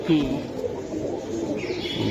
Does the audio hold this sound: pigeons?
yes